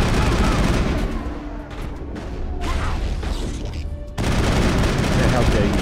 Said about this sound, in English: Okay, so I'm sticking to the assault rifle.